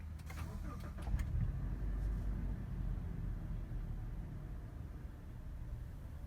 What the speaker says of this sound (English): Let us start her up. You just need to put your foot on the brake and push this ignition button.